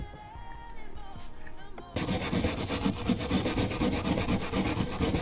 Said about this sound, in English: Scrubbing it up right now with a wire brush.